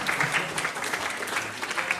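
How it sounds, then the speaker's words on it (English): Audience applause at a planning commission meeting, a steady patter of clapping hands from a modest crowd, fairly close and continuous throughout. "let's give you a hand"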